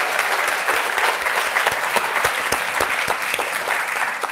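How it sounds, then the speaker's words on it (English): Dense applause from an audience, a sustained wash of clapping at even loudness with no speech. "that's worth a round of applause again"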